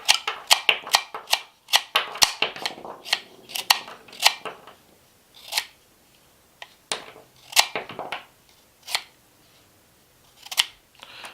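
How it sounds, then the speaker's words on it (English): Clever Cutter kitchen scissors snipping through a carrot, a series of sharp, close crunching snips in quick bursts at first, then spaced-out single cuts with pauses between. "let's cut off a chunk of carrot"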